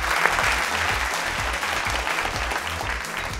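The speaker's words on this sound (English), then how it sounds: "you give yourself a round of applause for that, no problem" A studio audience at a televised school quiz contest applauds in a steady, dense burst of clapping that continues throughout with no talking over it.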